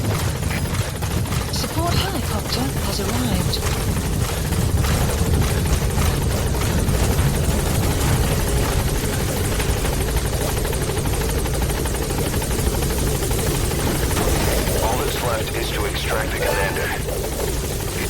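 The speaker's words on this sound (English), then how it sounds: "Support helicopter has arrived." Support helicopter from the Metal Gear Solid V: The Phantom Pain video game, a loud steady rotor whir and engine drone hovering close throughout, with voices talking over it.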